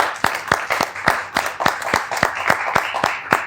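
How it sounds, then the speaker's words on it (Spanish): Sparse, rhythmic claps from a small audience at a comedy show, each sharp hand clap distinct and evenly spaced, moderately loud with faint room murmur between them. "Un aplauso a todos los que están acá"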